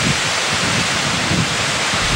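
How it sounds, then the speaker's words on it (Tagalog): Strong typhoon wind and heavy rain batter a province in the Philippines, a loud continuous roaring wash with slight gusting surges and no pauses. "Ramdam na namin ngayon sa mga oras na ito yung pinakabugso ng hangin at ng ulan na dala nitong si Bagyong Nina sa probinsya."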